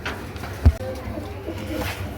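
Pigeons of the chandan variety coo softly amid the steady background noise of a pigeon sale, with a brief thump partway through and faint voices nearby.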